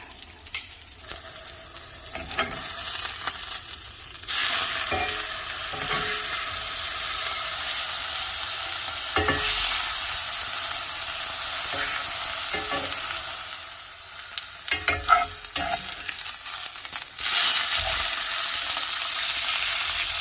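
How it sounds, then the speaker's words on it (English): Pork chop about half an inch thick searing in a hot pan, a loud continuous sizzle and crackle that swells and eases with occasional stirring and scraping sounds, close with no talking. "now I'm just going to sear each side of the pork chop and let it cook until it's done"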